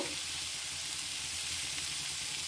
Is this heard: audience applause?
no